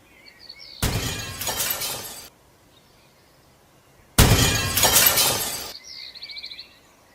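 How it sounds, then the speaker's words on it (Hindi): Two glass liquor bottles smash one after another, each a loud, bright shattering burst followed by tinkling debris and a short pause, with faint bird chirps in the background. "जमींदार का बेटा शराब पीकर प्रतिदिन वहीं पर शराब की बोतल फोड़ देता।"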